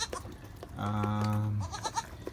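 Anglo Nubian goats bleat in a simple backyard pen, one long, loud, wavering bleat standing out over quieter barnyard noise and a few short sounds before and after.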